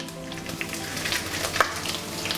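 Green chillies and dried red chillies frying lightly in a pan for cabbage chutney, a soft steady sizzle with faint crackles and one brief stir.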